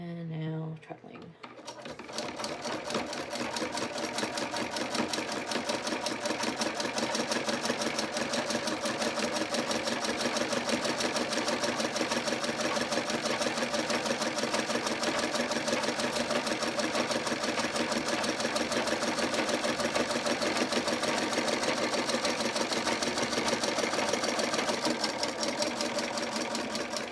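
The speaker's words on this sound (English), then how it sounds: "A couple of stitches, and now treadling." A Singer 27 treadle sewing machine stitches with a spoon hemmer foot, a fast, even mechanical whirring and clatter that runs continuously and close for almost the whole span after a short quiet start.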